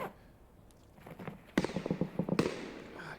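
Distant gunfire in the video game Escape from Tarkov, a quick burst of muffled, faint shots cracking in a loose rhythm from afar.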